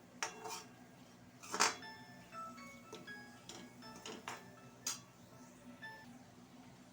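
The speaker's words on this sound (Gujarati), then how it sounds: "હળદર એડ કરીશું અને આને પણ આપણે મિક્સ કરી લઈશું" A spoon stirs turmeric into pigeon pea greens cooking in a metal pot, giving scattered clinks and scrapes against the metal, quiet and close, with one sharper knock among the light taps.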